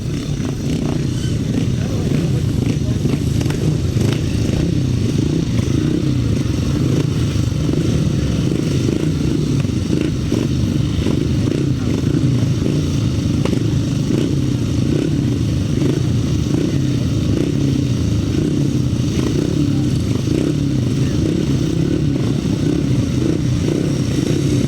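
Four 500cc sidecar outfits roar around a grasstrack race circuit, a constant loud blend of engines with rising and falling revs and some clatter.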